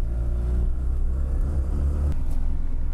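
A carburetor-equipped street car drives steadily, its engine giving a continuous low rumble with slight revving fluctuations, close and loud throughout with no talking.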